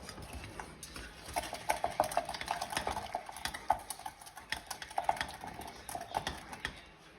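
Cooked lentils being mashed with a spoon up close, a steady run of soft squelches, scrapes and light clinks against the pot.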